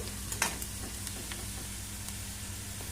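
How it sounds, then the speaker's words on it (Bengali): Garlic and whole cumin seeds fry in hot oil in a pan, giving a steady close sizzle with a few scraping stirs near the start, no talking. "হালকা করে আগে ভেজে নেবো, তারপরে বাকি জিনিসগুলো দেবো।"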